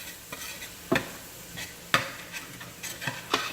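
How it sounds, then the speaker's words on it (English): A spoon stirs flour into a chicken gravy mixture in a pan, with regular scraping strokes and occasional sharper clinks against the metal over a soft sizzle, close up with no talking. "You want to stir this continuously."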